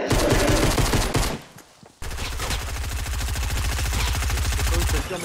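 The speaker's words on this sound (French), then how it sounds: "le son du jeu là du coup il est trop fort, frère. Genre les bruits des tirs et tout" Loud rapid automatic gunfire from a shooter video game, a steady close machine-gun rattle that cuts out briefly and then resumes as a long sustained burst.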